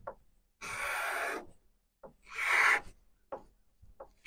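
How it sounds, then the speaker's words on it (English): A scraper pulled by hand across wooden furniture strips off the old finish in rough rasping strokes: two long scrapes and several short ones, close and clear, with quiet pauses between. "it's gonna scrape the finish off"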